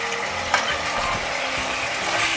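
Chicken pieces frying in a pan for three-cup chicken, a dense close sizzle throughout with a couple of soft knocks and stirring sounds.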